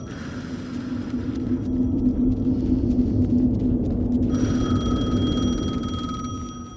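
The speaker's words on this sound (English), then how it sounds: "The phone again." A telephone rings in the video game Alan Wake II, a steady electronic tone that sits above a deep, constant rumble and grows sharper and brighter partway through.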